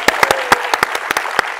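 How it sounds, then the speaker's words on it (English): A short burst of audience applause at a film industry talk show, a loud clatter of hands with several distinct sharp claps standing out from the crowd. "That's a huge round of applause for Meeta Madhvani."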